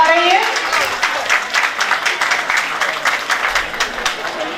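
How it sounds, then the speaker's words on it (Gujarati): A crowd applauds at a community sacred-thread ceremony in Amreli, a steady patter of many hands clapping, with a brief voice at the start. "આપણે સૌ તાળીઓથી વધાવતા રહીએ"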